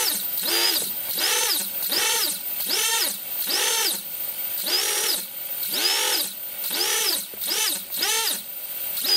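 Drone motors on BLHeli ESCs with Oneshot disabled rev in about nine evenly spaced throttle bursts. Each bursts into a rising and falling whine, close and clear, with no talking.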